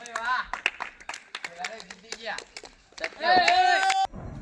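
A group claps hands after a brick-walking ball challenge, heard as a burst of quick, fairly close claps under continuous talking and voices.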